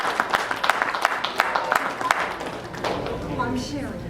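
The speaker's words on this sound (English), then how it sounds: "I think you need to applaud the NFB for that one." An audience at a National Federation of the Blind Florida state convention claps in a short burst of scattered hand claps that fades out, with a voice talking over it.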